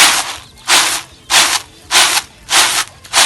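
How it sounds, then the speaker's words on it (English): Peanut skins are winnowed by hand in a village setting, five regular rushing whooshes about every 0.6 seconds as husks are tossed and shaken, close and fairly loud. "we are winnowing. Can you see? Just removing all the skin that was removed from the peanuts."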